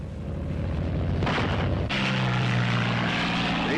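Thunderbolt fighter planes' propeller engines drone loud and steady at a 1944 fighter airfield. The roar thickens and shifts partway through and then holds as one continuous rumble.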